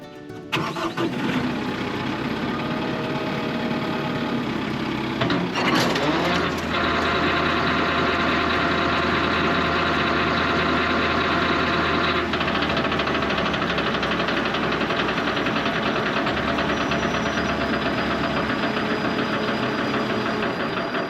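A tractor engine with a Titan flail mower attached cranks and catches, then runs steadily at a loud, close, rough idle that rises in pitch after a few seconds, with no voices.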